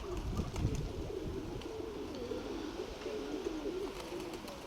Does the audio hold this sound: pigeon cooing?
yes